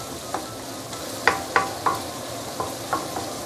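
Blended chili paste sautés in a pan over medium-low heat with a constant crackling sizzle, punctuated by several sharp metallic spatula taps and scrapes, close and fairly loud.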